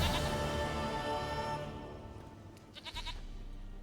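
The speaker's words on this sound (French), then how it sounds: "Une chèvre à moi, gentille, douce, biquette." Goat bleats from The Witcher 3, a short quavering call near the end over a dense, fading game background of music and ambience.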